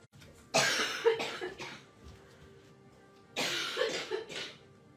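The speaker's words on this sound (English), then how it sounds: "It just catches me by surprise and takes my breath away when I cough" A woman coughs close by in two separate fits, each a cluster of sharp, harsh coughs, with a quiet pause between them.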